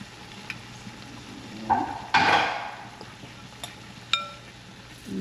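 A spatula scrapes gumbo collard greens across a plate in a home kitchen, with a few close, brief scraping and clinking strokes, one louder burst in the middle, and light sizzling behind.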